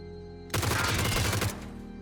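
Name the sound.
G36C gunfire at snow bike in PUBG video game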